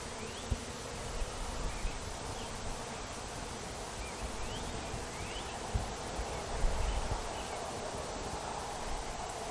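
A dense, steady buzz of many honeybees rises from an opened backyard hive, continuous and close, with occasional soft knocks and rustles from handling the frames and no talking.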